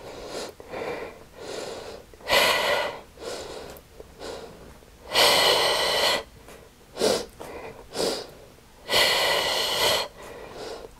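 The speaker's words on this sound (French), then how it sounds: "Expire. Inspire. Expire. Inspire. Expire. Inspire." Forceful breaths during a bodyweight strengthening exercise, alternating loud, airy exhales and shorter inhales in a slow regular cycle, close and clear with no other sound.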